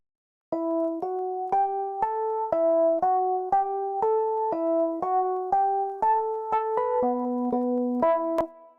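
A synth steps through a sequence of sustained MIDI chords in Ableton without arpeggiation, each chord struck cleanly one after another in an even rhythm for about eight seconds. The sound is clear and alone, with no talking.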